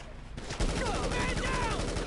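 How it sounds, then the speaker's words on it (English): Rapid gunfire in the video game GTA 5, with bursts of automatic shots rattling continuously after a brief lead-in, loud and close. "We're receiving fire!"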